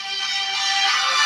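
A phone ringtone plays steadily and fairly loud with no talk over it, a dense bright electronic tone holding for the whole stretch.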